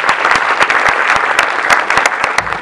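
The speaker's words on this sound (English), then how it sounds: "give him a big round of applause" An award ceremony audience bursts into applause, dense rapid clapping close and loud throughout, no voices over it.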